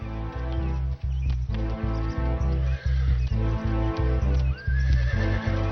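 Stallions fighting in the wild let out repeated loud, harsh neighs and whinnies over a steady drumming of hooves, with no voices in the scene.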